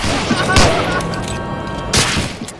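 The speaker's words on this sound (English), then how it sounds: "Oh, why did I use a grenade? Oh god. Don't use grenades in this game." A grenade blast and gunfire in the World War II shooter Medal of Honor: Allied Assault, with loud booming bursts, one early and one late, over a continuous noisy game soundscape.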